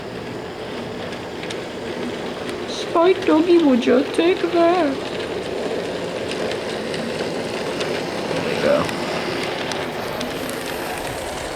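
Bachmann Donald and Douglas model trains rumble steadily along their track with a continuous clattering hum while a person speaks briefly over it.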